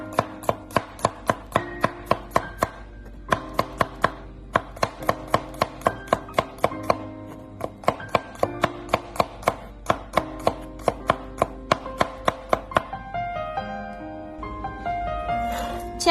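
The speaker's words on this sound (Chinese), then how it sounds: "将大蒜切成薄片。" Knife slicing garlic into thin slices on a cutting board: a quick, even run of sharp close-up taps, then it trails off into quieter scraping near the end.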